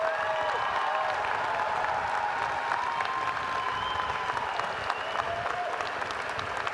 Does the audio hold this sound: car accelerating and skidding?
no